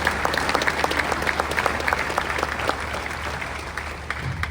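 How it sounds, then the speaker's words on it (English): Steady outdoor applause at Ohio Stadium honoring donors and volunteers during a statue unveiling for Archie Griffin, a moderately distant crowd clapping continuously for several seconds with no voices over it. "please give the donors and the volunteers a round of applause"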